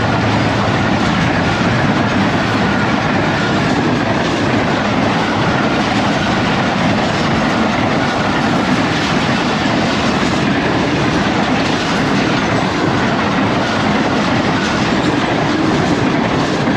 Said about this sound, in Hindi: G40 लीड कर रहा है दोस्तों, स्पीड बना रही है ट्रेन।